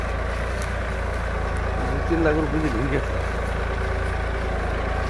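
A Massey Ferguson 9500 electric-hydraulic tractor idles in a steady, low, rumbling drone as someone talks over it.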